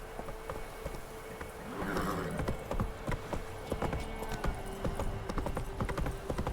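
Steady clip-clop of the horse Roach's hooves in The Witcher 3: Wild Hunt, a close, regular walking rhythm of hoof strikes over a low ambient bed, with a faint snort or whinny partway through.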